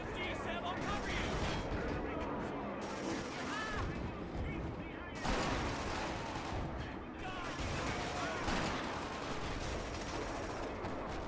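Sustained machine-gun fire in Killzone 2 keeps up a dense, continuous rattle of shots with heavier thuds mixed in, loud and close, while voices talk over the din.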